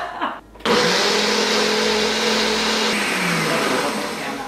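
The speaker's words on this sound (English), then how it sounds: "Take our ninja blender, blend it up." A Ninja blender whirs loudly as it purées cashew alfredo sauce, starting abruptly after a brief pause and holding a steady, close, motor-heavy roar with a shifting pitch to the end.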